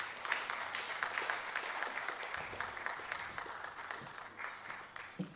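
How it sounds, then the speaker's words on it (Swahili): An audience at a national human rights forum applauds steadily as a guest arrives, a continuous, even patter of many hands clapping at moderate distance, with no voice rising above it. "Tuongeze makofi kidogo akiwa anafika"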